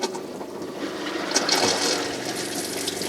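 Inside a Winnebago RV, the toilet sprayer runs during winterizing, spraying pink antifreeze into the bowl. It makes a close, rushing, splashing water sound with surges for about three seconds.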